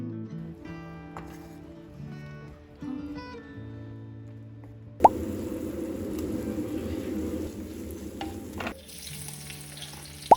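A creamy garlic mushroom mixture with malai sizzles steadily over a low flame for a few seconds in the middle, with background music playing before and after.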